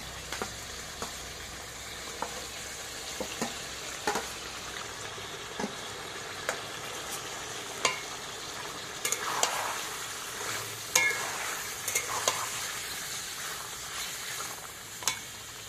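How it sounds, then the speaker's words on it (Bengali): Lightly fried chicken for lemon chicken sizzling in a pan as gravy is stirred in, steady quiet frying hiss with intermittent scraping clicks of a spoon, close. "চিকেনটা হালকা ভেজে নিয়েছি, এবার গ্রেভিটা দিয়ে দেবো।"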